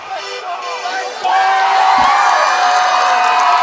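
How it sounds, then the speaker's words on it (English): High school students cheering at a Cyclone football game in Harlan, a loud crowd of whoops and shouts that swells sharply partway through and holds, with voices mixed in. "As we hear the Cyclone students getting fired up"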